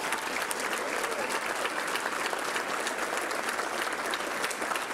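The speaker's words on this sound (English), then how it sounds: "So let's give him a round of applause." A banquet audience at an awards dinner gives a steady, dense round of clapping, loud and continuous throughout, with no voices standing out above it.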